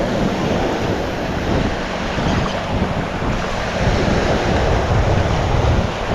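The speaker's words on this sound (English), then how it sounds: "The waves are pushing stuff southward." Ocean surf rolls continuously onto a Gulf beach at Sand Key or Fort De Soto, loud and close, with wind buffeting the microphone over the steady wash of breaking waves.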